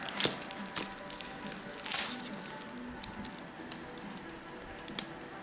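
A comic book being unwrapped: soft plastic crinkles and rustles with a few sharper tearing crackles, close but quiet, without talking.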